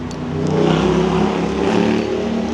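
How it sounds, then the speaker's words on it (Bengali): A single car passes along a quiet street in Vientiane, Laos, its engine swelling up close and then holding as a steady mid-pitched hum, with no other sounds around it. "এক গাড়ির শব্দ শুনবেন"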